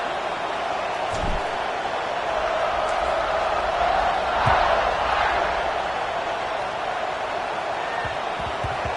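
Stadium crowd in a college football video game, Notre Dame against Kansas State, keeps up a steady broad roar of cheering during a kickoff, swelling briefly near the middle, with a few faint thumps scattered through.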